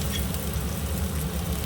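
Curry leaves hitting hot oil with onion and dried red chillies for curd rice, giving a steady close crackling sizzle throughout with no voices.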